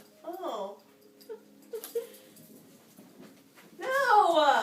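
Dogs whimper in high, wavering whines, a short cry near the start and a louder, longer whine toward the end, with soft clicks and quiet background noise between.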